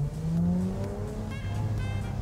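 A Mitsubishi Galant V6 with an aftermarket exhaust pulls hard under acceleration, its engine note droning steadily up close as the pitch climbs through the run, with no talking over it.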